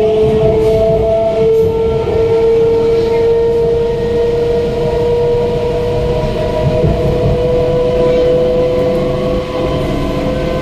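Inside a moving passenger train: a constant heavy rumble with steady humming tones, loud and close, continuing without a break.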